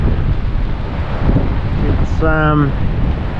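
Strong wind howls and buffets the microphone on a sea shore during fishing in torrential rain and big swell, a loud continuous roar, with a brief voice and a short tonal whistle-like sound partway through.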